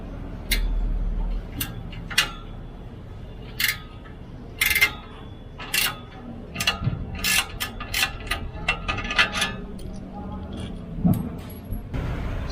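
A ratchet clicks in short, irregular bursts while loosening a 10mm bolt on a burnt-tip exhaust being fitted to a Montero Sport, with metallic ticks close by and someone talking intermittently.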